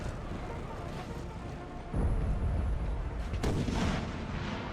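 Artillery fire in Napoleon Total War, with French troops charging Prussian artillery at Saalfeld: deep, booming cannon blasts that land in two heavy bursts over a low rumbling battle din, with a voice faintly beneath.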